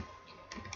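A few quiet keystrokes on a computer keyboard, soft and close, in a brief moment of typing.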